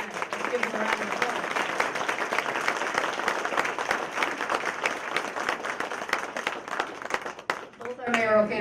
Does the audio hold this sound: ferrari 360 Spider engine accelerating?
no